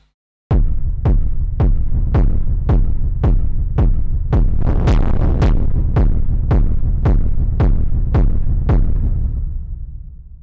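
Hard-clipped, distorted kick drum in an industrial doomcore/slowcore style, hitting loudly in a steady slow pulse of about fifteen booming, saturated thumps with a heavy low-end rumble and a fading tail at the end.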